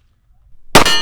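A bullet strikes a steel target during a practical shooting match stage in the high desert, giving one loud, sharp metallic clang that rings out and decays slowly, preceded by faint low rustling.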